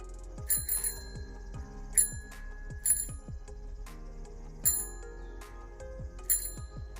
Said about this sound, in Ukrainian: звичайний велосипед.